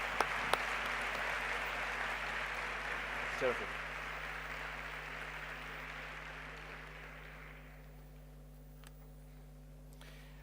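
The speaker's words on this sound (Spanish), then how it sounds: "Un aplauso." An audience at a talk on social innovation in health and technology claps in steady applause that gradually fades, with a brief spoken thanks near the start.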